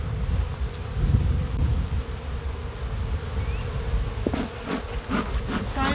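Honeybees buzz steadily around a Layens hive, a dense continuous drone up close with many insects in the air and a few faint knocks near the end.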